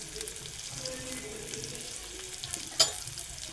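Curry leaves and garlic paste sizzle softly in hot oil as they are sautéed, a continuous frying crackle with a brief clink of a utensil near the end.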